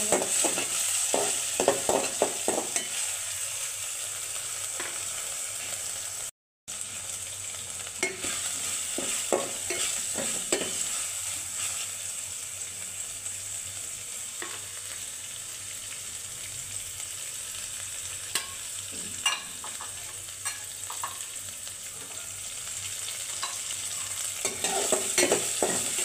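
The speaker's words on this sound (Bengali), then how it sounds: "এখানে আমি ফার্স্টে গরম তেলের মধ্যে পেঁয়াজ কুচি, অল্প একটু রসুন, কিছু গরম মশলা সবগুলো দিয়ে একটু ভালো করে কষিয়ে নিই।" Chopped onion, a little garlic and garam masala fry in hot oil, giving a continuous sizzle broken by repeated scraping stirs and one brief dropout, with no talking.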